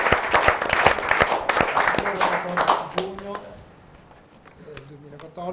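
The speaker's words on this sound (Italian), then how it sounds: "un applauso anche a loro" Audience at a Padova running event applauding for a few seconds, the clapping thinning out and fading under someone speaking over a loudspeaker.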